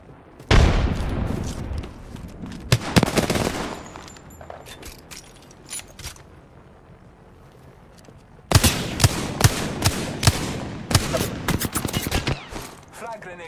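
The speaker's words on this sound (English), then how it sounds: "Frag grenade sent." Video game combat: a frag grenade blast and rapid bursts of gunfire, loud and close, come in two dense clusters separated by a quieter stretch, with a voice talking over parts of it.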